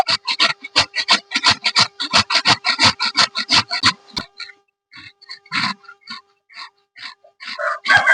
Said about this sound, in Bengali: এরপর একটা গ্রেটার নিয়েছি গ্রেটারের সাহায্যে গ্রেট করে নেব